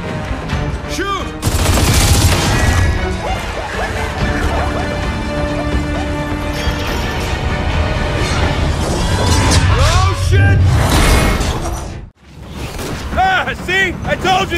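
Gunfire in the video game Gears of War 4, a dense, loud barrage of shots and crashing impacts mixed with shouting voices and game effects, cutting out briefly before a final burst of firing.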